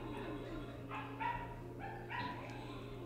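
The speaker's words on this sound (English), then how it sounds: "Can hear the neighbor's dog." A neighbor's small yappy dog barks faintly in the distance: a few short, high yips spread across a few seconds over a low background hum.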